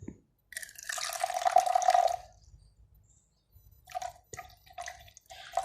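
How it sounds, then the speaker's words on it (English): Water poured into a glass jar for a water level indicator alarm circuit, a burst of splashing pour lasting about a second and a half, followed by quieter intermittent drips and trickles. "Now we adding water in the glass jar."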